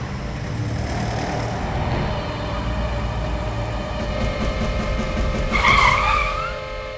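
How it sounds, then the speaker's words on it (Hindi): A car horn sounds in a long steady blare on a forest road at night, over a rumbling engine, growing louder toward the end. "लेकिन ये हॉर्न क्यों बजा रहा है यार?"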